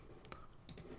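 A single computer mouse right-click, a couple of faint, quick clicks close up over quiet room hiss, with no voices.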